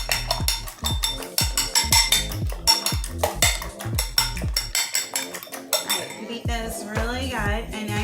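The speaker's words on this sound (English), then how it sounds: "now we are actually going to scramble up our 5 eggs" Five eggs being scrambled in a bowl for a Christmas French toast casserole, with a fork or whisk clinking steadily and rapidly against the bowl in close, loud rhythmic strokes that loosen toward the end.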